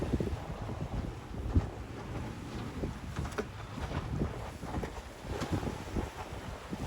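Wind over open water on the Red Sea buffets the microphone in a steady low roar, with gusty rumbles and faint splashes from a boat, and no voices.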